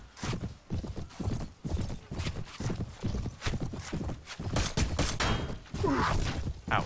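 In the Mount & Blade video game, a horse that is in very bad condition gallops with loud, rhythmic hoofbeats. The regular clip-clop repeats close by throughout, and a whinny comes near the end.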